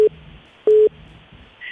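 Telephone line tones: two short steady beeps about half a second apart, fairly loud, with no voices.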